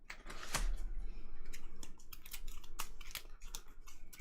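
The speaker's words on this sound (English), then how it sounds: "Shuffle, shuffle, shuffle." A deck of cards riffled and shuffled during a DC deck-building card game, a run of crisp, papery clicks and snaps close up, rising and falling in quick bursts.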